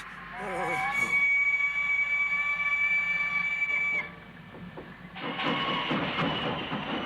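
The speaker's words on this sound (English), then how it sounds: "Oh, say goodbye to the train, Bully." In the animated series Around the World with Willy Fog, a steady train whistle or horn tone holds for several seconds, then cuts out, followed by a broadband rumble of the train moving off.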